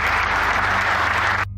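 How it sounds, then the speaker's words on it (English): Audience in a hall applauds at the close of a political speech, steady moderate clapping filling the room under a low hum, cutting off abruptly near the end. "he got claps there at the end"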